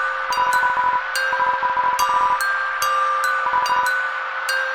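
A bright, bell-like melody of chiming notes plays alone from a statue in the video game Undertale, with rhythmic ticking accents and a steady sustained tone underneath.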